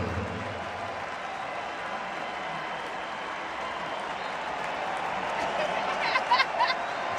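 A crowd at a game applauds Dwight Howard, a soft, continuous patter of clapping heard at a distance, with a few sharper claps standing out near the end.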